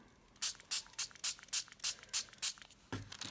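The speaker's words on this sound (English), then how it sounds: "I'm gonna spritz that." A spray bottle spritzes ink onto a craft surface in nine quick, evenly spaced hissing bursts. The spraying is close and crisp, followed by a soft rustle.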